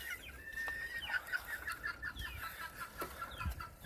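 Old English Game Bantam chickens cluck softly in a coop, a quiet run of rapid clucks and short calls repeating over a few seconds, somewhat distant and faint.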